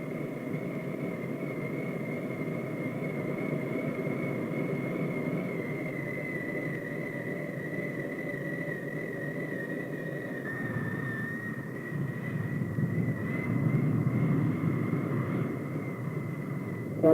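A military jet readies for takeoff on an airfield, its engine a loud, steady drone with a sustained whine that shifts slightly in pitch, then swells toward the end.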